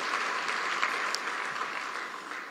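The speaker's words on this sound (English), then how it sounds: "Let's give another round of applause to Patricia." Sustained audience applause at a Kenya Innovation Week 2023 event, a dense, steady clatter of many hands clapping throughout, fairly close and even in loudness, with no talking over it.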